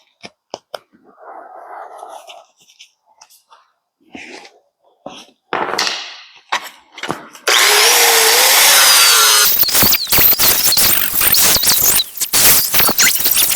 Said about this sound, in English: It didn't take long to get through one side of that flap disc, and now I have a nice clean surface